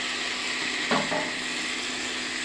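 Fried potatoes added to a pan of sizzling masala, a steady loud hiss with a brief rattling clatter as the pieces drop in.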